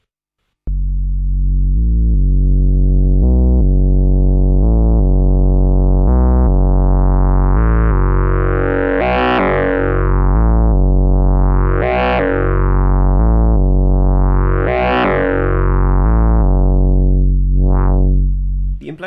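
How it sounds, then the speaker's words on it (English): Majella Audio IMPLEXUS synthesizer wave folder fed a sine wave: a loud sustained buzzing synth tone that repeatedly swells brighter and folds back, cycling in slow sweeps with rising harmonic sheen, continuous and alone. "If you feed it a sine wave, it sounds a bit like this."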